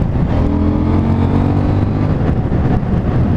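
A KTM Duke 790 motorcycle engine drones close and loud, pitch shifting as the quickshifter snaps through gear changes, a continuous rumbling motor note with brief dips between gears.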